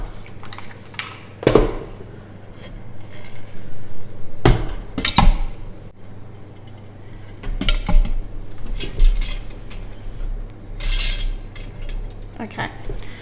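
Glass canning jars clink and knock as they are set upright one by one into a pressure cooker, with sharp hard impacts spaced across a low background hum.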